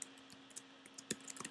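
Scattered clicks of typing on a computer keyboard, a few light, irregular keystrokes close by over a faint steady hum, with no voices.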